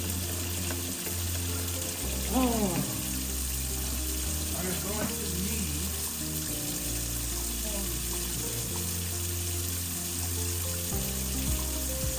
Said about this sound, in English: nice good wash with some soapy water.